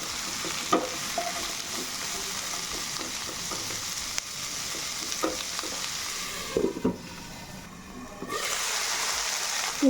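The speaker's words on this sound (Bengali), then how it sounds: "একটু পেঁয়াজ কুচি, সজনে ডাঁটা দিয়ে দিলাম। খুব ভালো করে ভেজে নিচ্ছি।" Chopped onion, green chilli and drumstick stems fry in oil for a Bengali fish curry, with a steady close sizzle and occasional scraping stirs, the hiss briefly thinning before it swells again.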